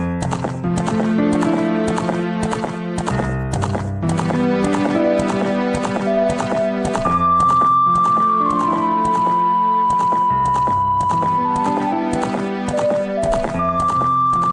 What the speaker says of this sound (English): Like the sound effects too of the horse.